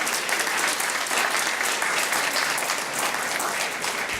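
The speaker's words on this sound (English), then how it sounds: "Let's give a big round of applause to Ted and his organization for our primary sponsor here today" An audience at an anniversary celebration bursts into a big round of applause for a sponsor, a dense, loud, even roar of clapping hands that holds steady throughout with no talking.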